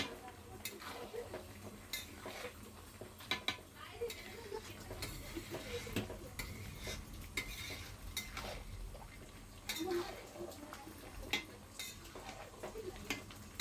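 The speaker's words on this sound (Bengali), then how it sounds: "তো এই যে আমি এবার নাড়াচাড়া করে নিলাম" A mixed vegetable curry is stirred in a pan, with soft scraping and clinks of a utensil against metal over a faint sizzle, fairly quiet and close, with no speech.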